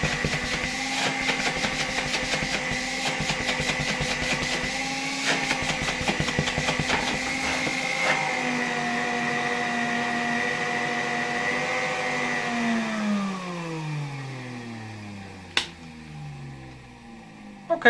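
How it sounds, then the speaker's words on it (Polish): A vacuum cleaner motor run through a 1992 Ukrainian RS-6 voltage regulator drones steadily with a loud whine, then winds down in falling pitch as it is switched off, ending in a click. "Teraz odkurzacz powinien być włączony."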